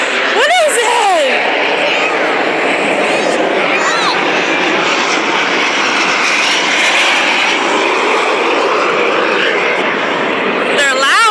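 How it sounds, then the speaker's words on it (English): Airplanes at a 2013 airshow roar loudly and continuously overhead as they loop past, a dense engine rumble close by, with people talking over it. "You see the airplanes? Look, coming again!"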